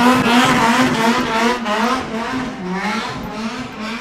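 A car doing a tire burnout at a car show exhibition, a loud sustained engine roar with wavering squeal rising and falling, close and continuous throughout.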